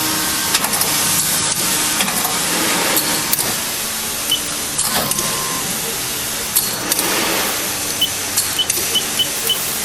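An FH-80J machine running: steady, loud mechanical whirring and hissing with faint repetitive ticks, close by, with occasional brief voices in the background.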